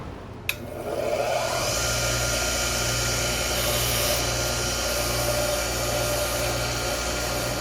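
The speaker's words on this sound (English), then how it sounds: "So we're going to clean this off. Got my brass wheel brush." A brass wire wheel brush cleans a part from a Simplicity Symmetry vacuum, starting with a sharp click and then running as a loud, continuous whirring grind with a steady hum underneath.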